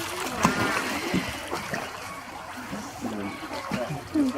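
An artificial waterfall running into a penguin pool at Birdland splashes and trickles steadily in the foreground while someone talks over it.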